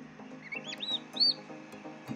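Soft high-pitched peeping from newly hatched turkey chicks in a homemade incubator, a few rising and falling chirps over a low background hum, fairly quiet and close.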